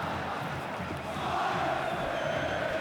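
Atlético Paranaense supporters roar at the Arena da Baixada during a 2007 Brazilian league match against Corinthians, a dense, steady wash of crowd noise with chanting that holds for a few seconds.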